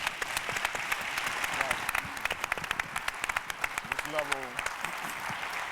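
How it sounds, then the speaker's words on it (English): An audience at a symposium gives a round of applause, a dense patter of many hands clapping at close to mid range, with a few voices calling out over it. "give them a big round of applause"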